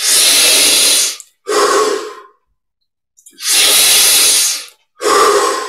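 Deep, very close meditation breathing, heard as two full inhale-exhale cycles: long loud airy rushes, each followed by a shorter breath, with a clear silent pause between cycles.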